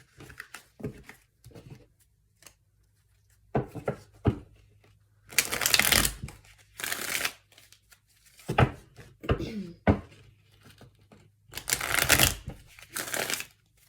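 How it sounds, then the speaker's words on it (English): Tarot cards are cleared and shuffled in repeated bursts of crisp riffling and flapping, each lasting a second or two, with pauses and soft handling noises between them. "So I'm going to clear these cards quick."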